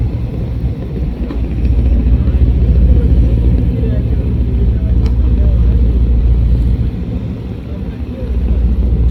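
Passenger launch Tipu-14 moving fast, its deep steady engine rumble and water wash droning loud and continuous, with wind buffeting the microphone throughout.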